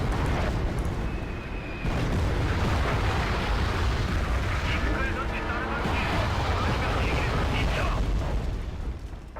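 In the Wargame Red Dragon video game, artillery and jets pound tanks in a South Korean defense battle. Dense, continuous rumbling explosions fill the whole stretch, with a voice talking over the din.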